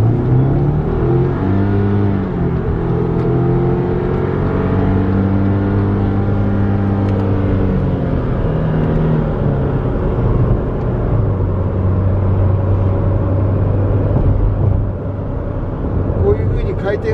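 A Subaru Forester Sport engine revs and pulls under way, its rising and falling engine note steady and loud throughout while someone talks over it.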